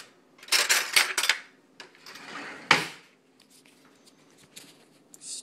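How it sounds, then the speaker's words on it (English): A spoon clinks and scrapes around a coffee cup while cream is stirred in, with a few quick bursts of rattling, then a sharp tap and softer scattered clinks. "Need a spoon so I can stir this."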